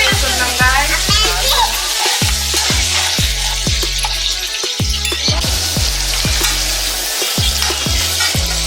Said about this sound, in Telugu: జీలకర్ర, ఇవన్నీ ఇప్పుడు బాగా ఫ్రై చేసుకున్నాం.